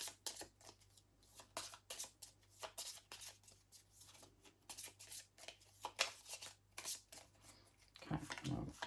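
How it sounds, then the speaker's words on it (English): A deck of playing cards shuffled by hand, a quiet rapid series of riffling, flicking bursts with soft rubbing between, close and faint, ending with a few card taps. "I might just give these a little shuffle"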